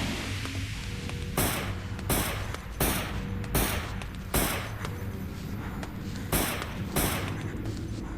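Gunfire in the horror video game Comatose: around eight sharp, loud shots fired singly at irregular intervals, each a broadband crack over a steady droning game ambience.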